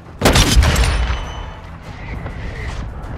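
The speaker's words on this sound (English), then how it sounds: "Throwing flash grenade." A flash grenade goes off in Call of Duty Modern Warfare II: one sharp, loud bang with a short crackling decay, then a quieter ringing tone and faint battlefield noise trailing behind.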